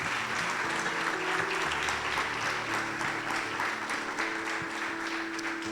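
A church congregation gives a strong round of applause, a dense, even wash of many hands clapping at moderate distance, with a faint voice and low tones beneath.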